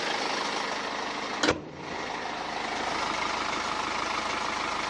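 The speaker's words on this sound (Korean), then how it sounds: "이 정도의 엔진 소음 기대하실 수가 있는 차량입니다." A BMW X1 diesel SUV with 80,000 km on it idles with the hood closed, giving a steady, low, even engine hum throughout, broken once by a short sharp knock or thump near the start.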